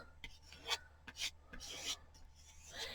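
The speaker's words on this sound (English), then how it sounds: "So just kind of scrape it into the holes." Filler paste being scraped into the holes of a small craft gnome ornament, a series of short dry raspy scrapes in separate strokes, close and fairly soft, with no talking.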